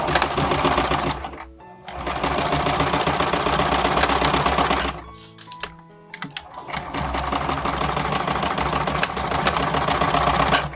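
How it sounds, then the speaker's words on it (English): A sewing machine stitches the side seams of a small doll dress in fast, loud, rhythmic bursts, stopping briefly twice before running on again. "Now I'm going to sew the side seams, pin them together."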